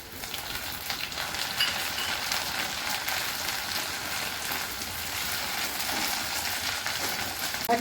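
Chopped tomatoes sizzle in a frying pan while cooking vegetable dal. The sizzle is a close, steady, hissing crackle that holds for several seconds, with no talk over it.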